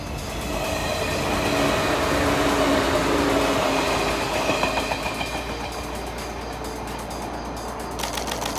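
A 415 series train running past on a railway test run in the rain, a loud steady roar of wheels and motors that swells and holds for several seconds, with faint rhythmic clicking near the end.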